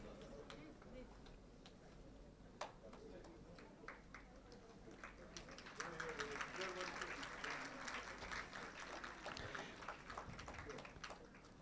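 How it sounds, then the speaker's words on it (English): Faint, scattered clapping from an audience at the Helping Hands Talent Search Test 2023 award ceremony, building to fuller applause halfway through, with a voice speaking underneath. "Please give him a big hand."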